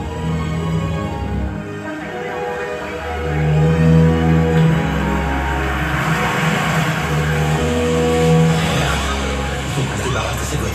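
A car drives steadily with a low engine drone and tire hum, a faint squeal partway through, and no voices over the road noise.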